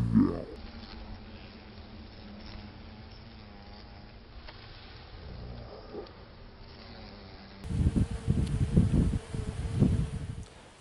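Honeybees buzz steadily around a hive as some return carrying pollen at an apiary being prepared for winter, a continuous close insect hum that swells louder and busier toward the end.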